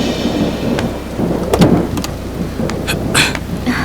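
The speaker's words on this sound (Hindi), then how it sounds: "क्या बारिश हो रही है" Steady rain pattering down with a low rumble of thunder rolling underneath, fairly loud and continuous, no voices.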